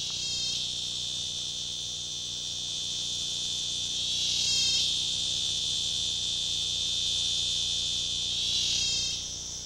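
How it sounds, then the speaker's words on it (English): A cicada calls in hot, dry, prickly scrubland with a loud, steady high-pitched buzz. The call pulses with short stuttering bursts at the start, near the middle and near the end, with no voices. "the sort of place where you might expect only reptiles and insects, like this cicada, to survive"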